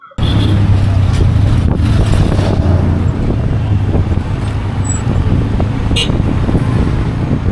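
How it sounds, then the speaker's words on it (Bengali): Steady road and motor noise from a three-wheeled tuk-tuk ride on a village road about 30 km from Cairo, with wind buffeting the microphone throughout, loud and continuous with no talk. "এবার মাইক্রোবাস থেকে নেমে 3 চাকা বিশিষ্ট টুকটুকে বাকিটা পথ চলছি।"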